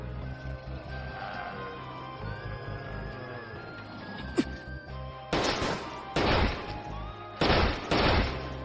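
Video game gunfire: several loud, sharp blasts ring out in short bursts, separated by brief pauses and set against a quieter droning game ambience.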